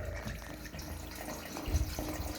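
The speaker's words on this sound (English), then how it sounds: "I can hear the water running through" Rainwater gurgles and trickles through the plumbing of an off-grid rain barrel and pump setup, a close, continuous running-water sound with small bubbling bursts.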